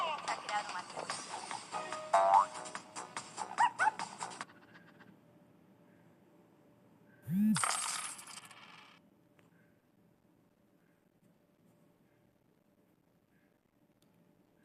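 Coins drop and jingle as rewards are earned in a mobile video game, in clustered bursts over the first few seconds, then one louder chime-like burst midway before fading to near silence.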